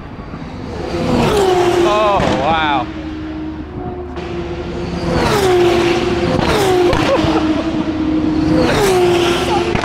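Formula 2 race cars in first practice at Silverstone during the British Grand Prix weekend, loud high-revving engines screaming past in repeated waves with rising and falling pitch, while a person exclaims over the noise.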